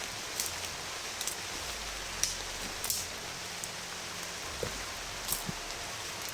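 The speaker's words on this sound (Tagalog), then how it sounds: "Malakas talaga yung ulan po." Heavy rain falls steadily at dusk as a dense, constant hiss, with occasional sharper drops and taps standing out against the wash.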